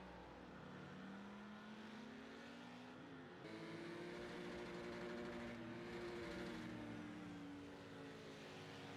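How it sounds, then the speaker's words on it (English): A Porsche GT4 race car in Project CARS screams on the rev limiter through a corner at the Nürburgring GP circuit, a steady high buzzing engine drone holding a sustained pitch at low, distant volume. "Hear that Porsche on the limiter going through turn 2."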